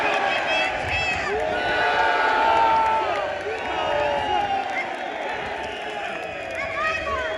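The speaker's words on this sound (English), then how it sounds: "Men, can you give me a cheer?" A crowd of men at an anti-abortion rally outside New South Wales State Parliament cheers and shouts in a sustained, loud roar of mixed voices, with individual yells and whoops rising over the swell.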